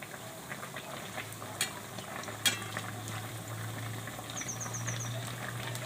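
Bread pakoda slices frying in hot oil in a home kitchen, giving a steady close sizzle with a few louder pops and crackles and no talking.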